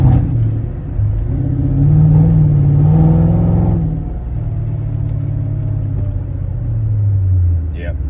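A Mercedes SL55 AMG on the road, a low engine rumble and road roar rising and easing as the car accelerates, heard from inside the cabin while someone talks over it.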